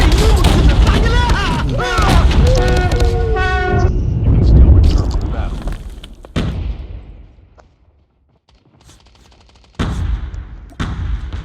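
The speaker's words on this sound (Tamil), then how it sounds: "ஐயோ வெடிச்சிருச்சு டிராஃபி" Loud Call of Duty Mobile gunfire and blasts mix with excited talking, then a heavy boom rumbles and fades into near silence before more shots start up.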